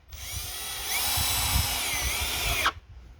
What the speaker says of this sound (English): Handy to have a cordless drill with a number 2 Robertson bit in the end.